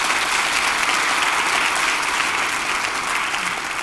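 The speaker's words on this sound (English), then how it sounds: "So give those folks at the First Baptist a round of applause." Loud, dense audience applause at an author event, a steady roar of many hands clapping close by for nearly four seconds without any talking.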